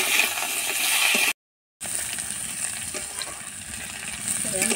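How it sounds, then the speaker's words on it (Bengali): Flat beans fry in hot oil in a home kitchen, a continuous crackling sizzle with bubbly texture that drops out briefly near the start before resuming at steady, moderate loudness, with no talk. "তেলে দিলাম, সিমটা ভেজে নিই"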